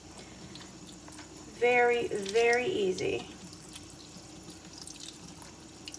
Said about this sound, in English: Just rinse it under cold water.